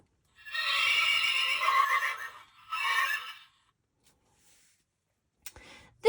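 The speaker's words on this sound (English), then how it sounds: "This is a horse." A horse whinnies loudly in two close bursts, a long neigh followed by a shorter one, then a brief pause and a couple of faint knocks at the end.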